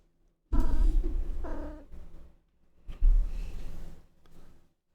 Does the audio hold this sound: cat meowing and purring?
yes